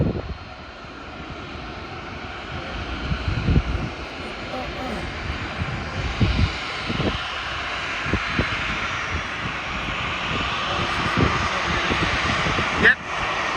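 A JAL Boeing 777-300 roars steadily on departure from Sydney Airport runway 34L, the jet engine noise broad and sustained at a moderate distance, with people talking over it throughout.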